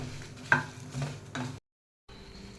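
Curry leaves and Byadgi chillies dropped into a hot pan for tempering: a few quick crackling sizzles and stirring scrapes, close by, broken by a short silence before the frying hiss resumes.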